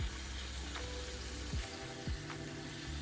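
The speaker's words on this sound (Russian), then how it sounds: "Жарим халюжи с сыром буквально по 25-30 секунд с каждой стороны." Cheese-filled khychiny fry in hot oil over medium-high heat, giving a continuous close, crackling sizzle with a few bubbling pops and no voices.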